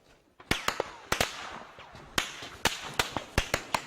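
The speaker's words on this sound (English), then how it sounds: "the sound of gunfire is heard near the eastern city of Goma" Sharp cracks of gunfire near the eastern city of Goma in the Democratic Republic of Congo, about a dozen loud reports in an irregular rhythm over a noisy outdoor background.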